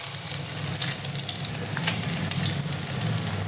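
Fish-oil fritters (bora) fry in a pan of hot oil with a steady, dense sizzle and crackle. It sounds close and continuous, with faint bubbling and no voices.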